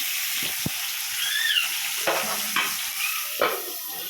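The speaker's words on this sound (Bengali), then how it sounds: "নুন হলুদ দিয়ে বেগুনটাকে একটু আমি নাড়াচাড়া করে ভালো করে মাখিয়ে নিয়ে ভেজে নেব" Eggplant fries in a pan with a steady bright sizzle, punctuated by a few scraping stirs and clinks of a spatula.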